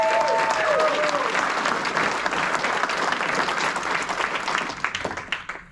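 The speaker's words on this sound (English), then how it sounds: "Clap it up for them." An audience at a wrestling club gala breaks into dense, steady applause that fills the room and tapers off toward the end, with a faint voice briefly audible near the start.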